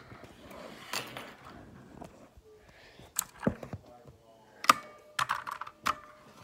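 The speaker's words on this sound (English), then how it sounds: "Okay, so you can just like type on keyboard" Irregular bursts of computer keyboard typing, close and fairly faint, with short clusters of key taps separated by pauses and no talk.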